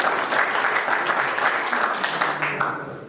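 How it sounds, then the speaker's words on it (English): Audience at a pigeon racing auction gives a round of applause for a winning loft, dense steady clapping from a crowd that fades out toward the end. "Can we give this Mr. Millie's loft a nice round of applause for his achievement?"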